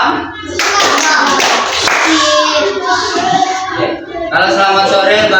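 Third-grade schoolchildren in a classroom clap together in bursts, sharp rhythmic claps mixed with children's voices and chatter.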